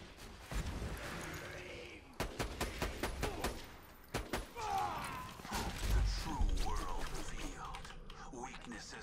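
Turrets fire in the video game Borderlands 2, rapid bursts of sharp gunshot pops in quick clusters, mixed with other game noise and a person talking.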